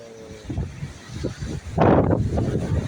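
Gusty, cold wind buffets the microphone in low rumbling bursts on a rocky Jeju Island shore at low tide, growing stronger and rougher toward the end.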